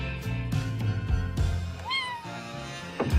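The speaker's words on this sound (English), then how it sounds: "kittens make everything better" A kitten gives one short, rising meow near the middle, close and clear, over a steady low background hum.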